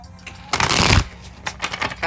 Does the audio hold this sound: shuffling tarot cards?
yes